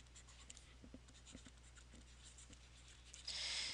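A pen scratches out an algebra equation during a math exam review. Short, faint, close strokes come in quick bursts, and a brief louder hiss follows at the end.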